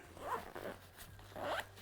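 Zipper on the top pocket of a USWE Patriot 15L hydration pack, pulled in two quick, close rasping strokes separated by a brief pause.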